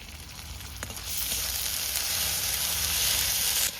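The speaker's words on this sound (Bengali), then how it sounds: "মশলা সুন্দর কষানো হয়ে গেছে আর মশলা থেকে তেল ছেড়ে দিয়েছে।" Spice paste of tomato, ginger paste, dried red chilli and cumin paste sizzling steadily in hot oil in a pan, a close, continuous frying hiss that swells after the first second with occasional stirring, no voices.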